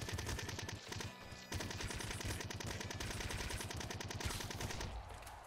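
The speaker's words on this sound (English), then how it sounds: "Blood rifle's going to be better for us here." Rapid blood rifle fire in the game Nuclear Throne, a dense, steady stream of loud gunshots rattling almost without pause, with a brief break near the start and more shots layered with game effects throughout.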